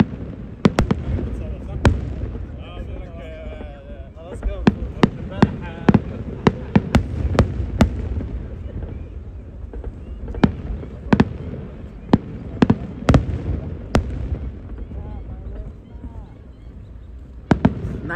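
Repeated sharp fireworks bangs at irregular intervals over a steady background murmur of a distant crowd, some bursts louder and closer than others, at the Yas Circuit Marina area, UAE National Day.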